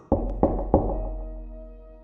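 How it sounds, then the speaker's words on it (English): Three firm knocks land on a wooden door at a steady pace. Each one booms with a resonant, hollow ring that fades slowly into silence. "I went up and knocked on the door."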